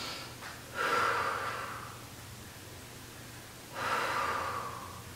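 Two slow, deep breaths are drawn close to the microphone during a postpartum core exercise for diastasis recti, each a soft airy rush with quiet pauses between.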